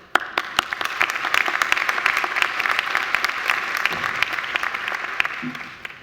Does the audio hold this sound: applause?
yes